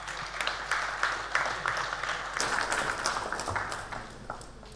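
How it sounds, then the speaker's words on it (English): Audience applause in a hall at a sugar and ethanol business conference, a moderate, continuous patter of clapping that swells and then gradually thins out toward the end. "Big round of applause"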